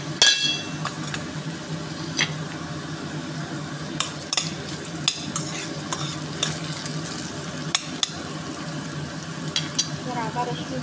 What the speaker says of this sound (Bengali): আদা রসুনটা কষিয়ে নেব।